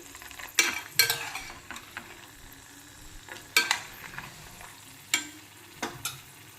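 Dried red chillies fry on medium heat under a soft, low sizzle, punctuated by several sharp stirring scrapes and clinks at irregular intervals, close by with no voices.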